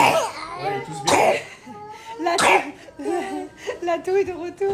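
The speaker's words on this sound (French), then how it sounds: "La toux est de retour, les gars." A child coughs sharply twice amid childlike vocal sounds and giggly noises, close and fairly loud.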